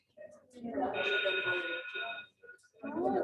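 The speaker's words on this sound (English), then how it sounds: "That's the bell." A classroom bell rings steadily for about a second and a half, a bright electronic tone mixed with classroom chatter, with people talking before and after it.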